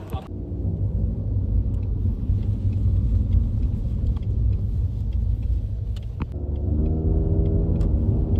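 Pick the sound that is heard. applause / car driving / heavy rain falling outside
car driving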